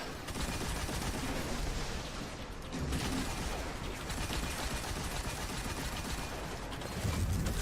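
Steady, dense gunfire from a boss fight in the Destiny 2 strike Pyramidion, played solo. Shots roll on without pause for several seconds, loud and close, with occasional heavier booms and no talk.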